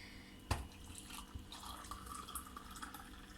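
Hot water poured into a cup of coffee, a soft trickling and dripping stream after a brief clink, quiet and close, with no voices.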